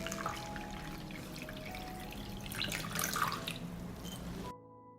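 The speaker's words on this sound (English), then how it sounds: "The jars are hot, so I pour lukewarm water up to the height of the lid." Lukewarm water pours into a cooking pot holding hot jars of tomatoes, a steady splashing run that lasts about four seconds and then cuts off.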